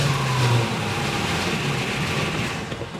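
A Plymouth Barracuda, left sitting for 27 years, runs at a steady, fairly loud idle, a continuous low engine drone that holds evenly throughout.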